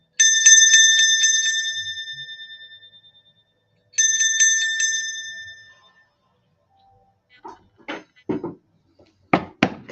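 Two bright metallic bell strikes ring out and slowly decay, each with a shimmering overtone tail, followed by a few softer scattered clicks and knocks toward the end.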